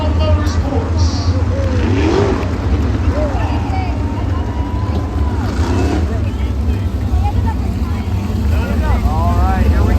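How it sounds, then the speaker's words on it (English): Sprint cars race four wide at the World of Outlaws finals, a loud continuous engine roar from a pack of cars filling the track, with a voice talking over it throughout. "The absolute best that sprint car racing has to offer are 4 wide on display."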